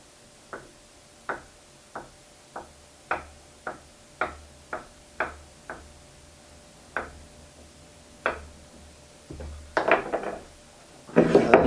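Knife blade chopping a rolled cylinder of gluten-free gnocchi dough on a cutting board: about a dozen sharp, evenly spaced taps close up, ending in a brief louder clatter of scraping and handling, with no talk.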